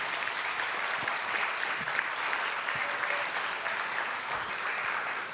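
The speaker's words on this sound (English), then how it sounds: "big round of applause for all of our speakers." Sustained applause from an evening community Treaty Day celebration audience, steady dense clapping throughout at even loudness, filling the room after the speakers finish.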